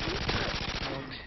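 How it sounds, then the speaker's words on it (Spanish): Rapid gunfire rattles in quick repeated bursts, dense and close, from a FAMAS rifle firing three-round bursts in a video game. "aquí la FAMAS es de 3 disparos de ráfaga"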